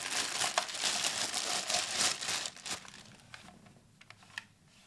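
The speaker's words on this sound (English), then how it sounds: "The buttons are still very clicky, the triggers are very springy." Rapid close clicking and tapping on the buttons and springy triggers of a Sega Dreamcast controller, a dense flurry for the first couple of seconds, then thinning to sparse, quieter clicks.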